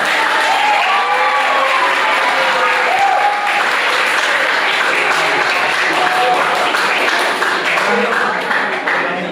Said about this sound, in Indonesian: Applause buat mereka juga.